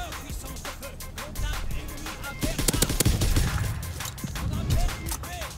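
M1A1 carbine fire in Call of Duty WW2, rapid sharp gunshots in bursts with distant battlefield shots and explosions mixed in, loud and dense throughout, with a voice speaking briefly over the action.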